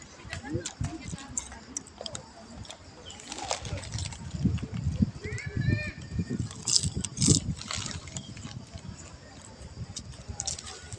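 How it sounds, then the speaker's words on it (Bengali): Pigeons in an Italian park flutter and peck food from an outstretched hand, with short bursts of wing flapping and light pecking taps mixed under someone talking. "দেখেন হাত থেকে ঠোকর দিয়ে কীভাবে খাবার কবুতরা নিয়ে যায়"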